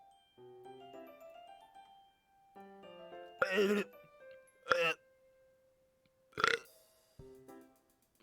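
A loud burp bursts out during a livestream, with a voice talking quietly around it and several more short, loud bursts following.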